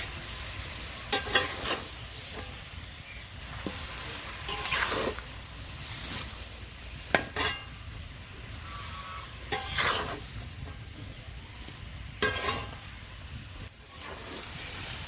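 A spoon stirs raw mango pickle cooking down with jaggery in a pan, giving soft scraping strokes every few seconds over a faint, steady sizzle, quiet and close with no talking.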